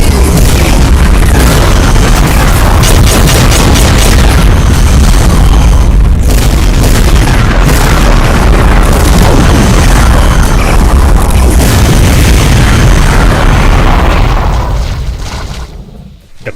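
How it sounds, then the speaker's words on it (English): BFG 9000 shots and explosions in a modded Doom game rumble as a dense, very loud, continuous wall of booming blasts that fades away at the end. "Close range is not recommended in an open area because of those BFG 9000 and 10K shots."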